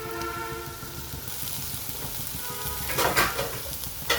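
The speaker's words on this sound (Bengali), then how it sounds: "নেড়ে চেড়ে ভালোভাবে মিশিয়ে দিচ্ছি" Bitter gourd is stir-fried with onion and red capsicum in a pan, making a steady close sizzle that rises into a burst of stirring scrapes toward the end.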